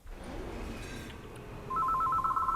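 A telephone ringing, a clear repeating electronic trill entering partway through over a background of game music in Surviving Mars.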